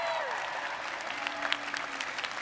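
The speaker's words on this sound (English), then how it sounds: "we got to have a little bit of applause for that" A crowd at a university health sciences commencement claps steadily and warmly throughout, a dense wash of applause with a few louder claps standing out.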